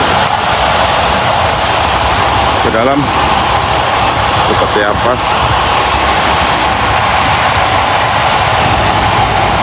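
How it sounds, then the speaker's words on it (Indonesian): Loud, constant roar of the diesel generator engines at the PLN Batu Kundur power station on Kundur Island, filling the engine hall at high level, with a brief voice speaking underneath. "Mesin-mesin yang berbunyi sangat besar"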